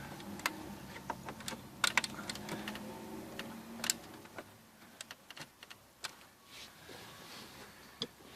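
Plastic clicks and snaps from an air vent being pried out of a Mitsubishi Outlander dashboard, a quiet run of sharp close ticks and taps, irregular and scattered throughout, with no talking.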